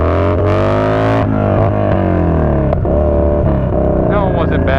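Yamaha Bolt motorcycle engine revving hard and loud during wheelie attempts, the pitch climbing and falling over several throttle blips, close up and continuous, with a faint voice briefly underneath.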